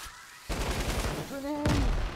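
A light machine gun fires in a Fortnite match, a burst of rapid shots over game noise, with a short tonal in-game sound partway through.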